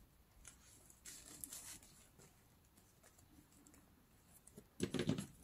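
Scissors snip a strip from a plastic bag in a quiet room, faint crinkly bursts of cutting and rustling near the start and a louder cluster of snips toward the end.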